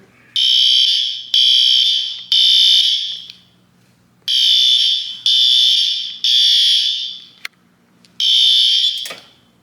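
A loud, piercing smoke detector fire alarm from a garage system test sounds in repeated long blasts with short gaps, a temporal pattern of bursts, ringing out close and harsh.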